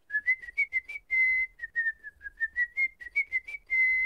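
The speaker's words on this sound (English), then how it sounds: "You just put your lips together and blow." A clear, close whistle made with the lips runs through a quick melodic series of short chirps and a few longer held notes, with no speech alongside.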